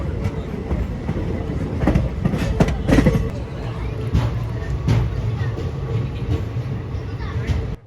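A train rumbles along steadily near a railway junction station, with rhythmic clacking of wheels over rail joints, a continuous loud mechanical roar with occasional sharper knocks.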